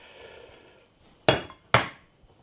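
A toasted sandwich being flipped over in a ToastiBox toaster bag, heard as two sharp close metallic clacks about half a second apart after a soft rustle.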